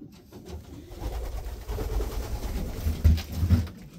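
Pigeons kept as future breeding stock coo in low, soft, repeated throaty calls that grow a little louder toward the end, heard close by with no talking.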